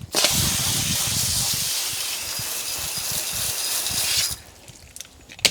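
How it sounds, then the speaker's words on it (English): A steady hissing spray of cool water on a car wheel runs for about four seconds, then cuts off, leaving faint dripping and small knocks. "the instructions say to spray the wheel first with cool water, which we'll do."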